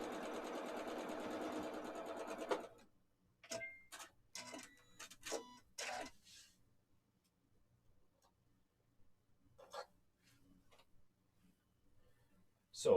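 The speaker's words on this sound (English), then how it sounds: "And do the same thing, just sew along the edge." Sewing machine stitching quilt pieces along the edge, a fast mechanical whirr for about two and a half seconds, then a few short bursts and faint clicks with quieter pauses between.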